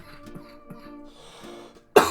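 A single short, harsh cough bursts out near the end, loud and close, after a quiet stretch of faint background tones and soft noises.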